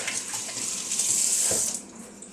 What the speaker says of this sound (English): Just a quick rinse off in the sink.